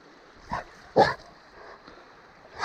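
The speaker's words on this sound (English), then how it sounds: "Don't you bark at me." A dog called Tacoma, wet from a creek bath at a campsite, lets out a few short gruff barks or grumbling yips, close by, spaced apart.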